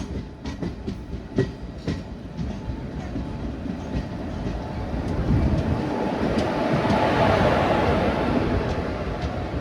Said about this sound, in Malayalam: മലബാർ എക്സ്പ്രസ് തന്നെയാട്ടോ ഇത്.